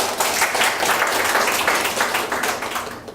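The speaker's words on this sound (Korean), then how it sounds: "다시 한번 박수 한번 부탁합니다." Audience applause at a Kim Dae-jung forum event in Gwangju, a steady wash of many hands clapping together, fairly loud and continuous for a few seconds with no talking over it.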